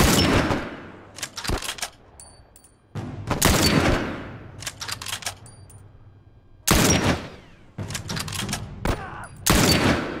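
Sniper gunfire in The Last of Us Part II: a handful of loud, sharp shots, each followed by a long echoing decay, spaced a few seconds apart in an otherwise quiet scene.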